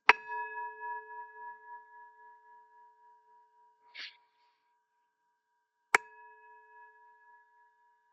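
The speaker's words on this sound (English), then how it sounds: "I'll just ring the bell again so you can just hear the bell." A meditation bell rings out clearly in near silence, its pure tone pulsing and slowly fading over several seconds, followed by a soft breath and a second strike that rings on quietly.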